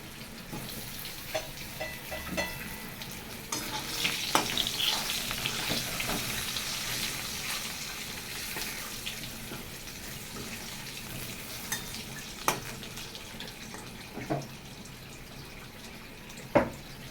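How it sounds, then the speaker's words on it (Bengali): Dried red chilies, bay leaf, radhuni, cardamom, cloves and cinnamon temper in hot oil for a fish and cauliflower curry, giving a steady close sizzle broken by scattered sharp pops and clicks, with no voices. "আমি একটু ফোড়ন দিয়েছি শুকনো লঙ্কা তেজপাতা রাধুনি এলাচ লবঙ্গ দারচিনি"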